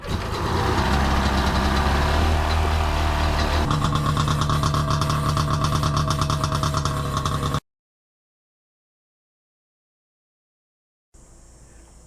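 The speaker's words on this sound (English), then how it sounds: "We're here with our 1995 SeaDoo XP, and we finally got the darn thing running." The engine of a 1995 Sea-Doo XP personal watercraft runs loud and close, a steady buzzing roar that shifts pitch partway through, then cuts to silence before a faint, brief return.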